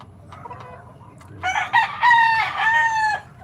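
A small bantam rooster, about pigeon-sized, crows loudly and close by, a short high cock-a-doodle-doo, preceded by a few soft clucks.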